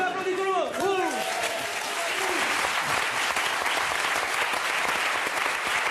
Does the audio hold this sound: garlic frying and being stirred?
no